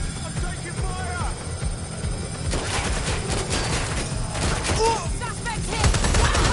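Gunfire in the video game Watch Dogs: Legion, a dense, continuous barrage of shots with rumbling booms, heard loud and close under shouted voices.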